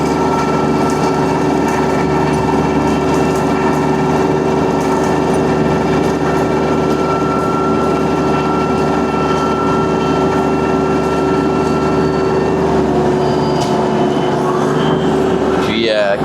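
A TYM T254 tractor drives a Bilodeau snowblower through its PTO at about 540 PTO speed. The result is a loud, continuous mechanical drone with a steady whine that holds throughout.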